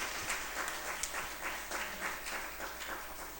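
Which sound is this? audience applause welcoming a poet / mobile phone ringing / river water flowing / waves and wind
audience applause welcoming a poet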